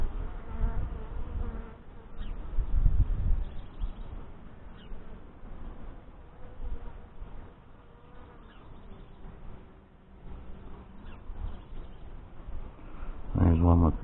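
Honey bees hum steadily in an open hive during a four-week inspection, a dense close buzzing that carries through the whole stretch while a person talks over it.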